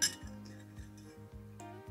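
A metal spoon set down near glasses during a water rainbow science experiment, making a sharp clink at the start followed by faint small taps and clinks, close and alone.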